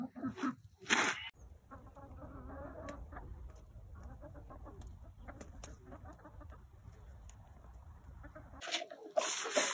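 Hens in a coop of eleven birds cluck and call around feeding time, a steady close chorus of soft clucks with a few louder bursts at the start and end.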